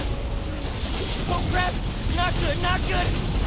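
A boat speeds across water in the Spider-Man Miles Morales video game, giving a steady rushing, wind-like roar with splashy noise, while someone talks excitedly over it.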